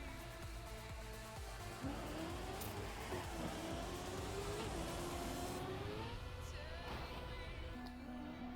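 Race car engine in a video game dropping a gear into an uphill corner, a steady loud whine that dips and climbs in pitch as it downshifts and pulls through the turn.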